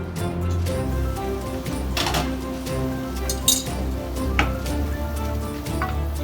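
A metal lid clinks down over a pan of spinach cooking on low heat, with a couple of sharp clinks above a steady low sizzle and kitchen hum.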